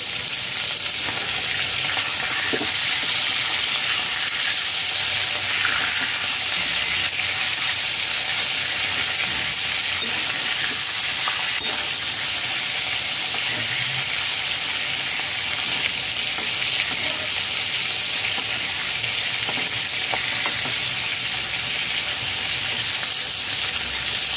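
Marinated chicken frying on high flame for doi chicken, a loud, steady, close sizzle that hisses on without a break.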